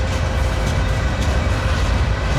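A CSX local freight train with its locomotive rolls past in Lakeland, Florida, producing a loud, steady low rumble and rattling of wagons throughout, close by.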